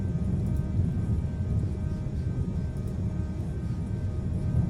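An aircraft in Microsoft Flight Simulator rolling down the runway for takeoff, a steady low engine rumble and roar that holds throughout with no talk.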